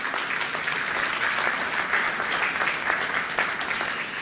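Warm, sustained applause from an audience at a satellite launch event, dense steady clapping filling the room without pause from start to finish.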